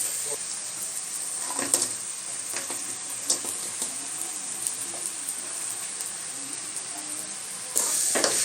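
Chicken pieces sizzle in garam masala spice paste in a pan for a chicken 65 pasta dish, giving a steady bright hiss with a few scraping stirs and a louder burst near the end.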